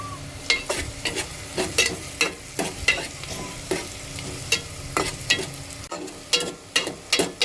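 Onions fry in a pan for an eggplant curry, sizzling steadily while a spoon strikes and scrapes in quick, irregular stirring strokes close by, with no one talking.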